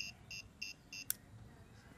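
An Arduino smart-house fire-detection buzzer gives four faint, evenly spaced short electronic beeps, followed by a single sharp click.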